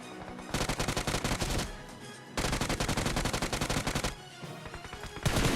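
Automatic weapon fire in the mobile battle royale game BGMI, long sustained bursts broken by short pauses, loud and rapid, with one heavier burst at the end.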